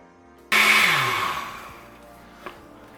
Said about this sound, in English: Then we're just going to go ahead and blend this up really well.